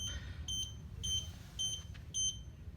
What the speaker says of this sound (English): You get 5 beeps.